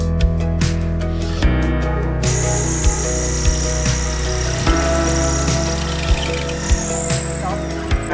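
A power drill whirs steadily and loudly at close range while fitting a fan frame, smoking as it runs, its tone shifting partway through, with a faint rhythmic knock repeating beneath it.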